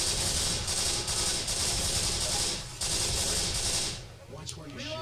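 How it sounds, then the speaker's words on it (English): Friendly gunfire in the Left 4 Dead 2 video game, a dense, loud, continuous spray of rapid shots with brief gaps, breaking off near the end as voices talk over the chaos. "Stop the friendly fire right now."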